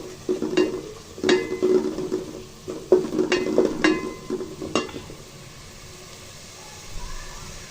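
Spice masala being sautéed and stirred in a pan, with a soft frying hiss and a series of sharp spoon-against-pan clinks and scrapes at irregular intervals, fairly quiet and close.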